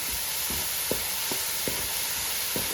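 Green chillies fry in hot oil for a Kerala-style beef varattu, giving a steady close sizzle and hiss broken by several soft stirring scrapes at a regular pace.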